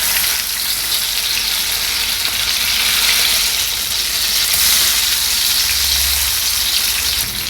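Fish pieces fry in a pan over a low flame, giving a steady, dense sizzle that holds evenly throughout with no voices.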